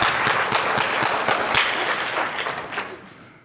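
Audience in a hotel conference hall applauding at a motivational talk, dense steady clapping with sharp individual claps standing out, loud and close, fading toward the end.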